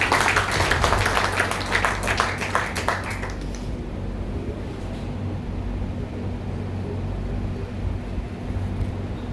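A large audience at a Brahma Kumaris ashram gathering applauds loudly to welcome an IPS officer. The clapping is dense at first, then dies away after a few seconds, leaving a low room hum.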